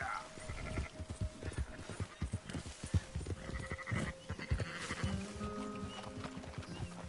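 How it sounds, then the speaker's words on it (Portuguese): Sheep bleating in the Red Dead Redemption 2 video game, mixed with clopping hooves and horse noises in a busy outdoor game scene, several overlapping calls at moderate volume, with no talking. "Essas ovelhas querem ferrar comigo"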